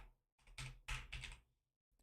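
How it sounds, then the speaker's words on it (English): Typing on a computer keyboard: a short close burst of quick clicking keystrokes in two clusters, with a brief final tap after a pause, quiet and without talk. "Hopefully I'm typing this right."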